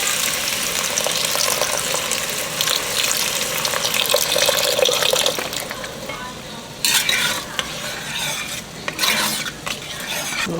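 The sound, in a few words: beef broth poured into sizzling pan of Hamburger Helper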